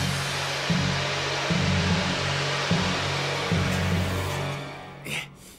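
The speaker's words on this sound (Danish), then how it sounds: "Jeg bliver nødt til at skaffe en ny rem til din vaskemaskine, Dillis." An overfilled washing machine in a children's cartoon drones steadily with a low, rhythmic throbbing hum that pulses every second or so, then fades out near the end before a brief soft bump.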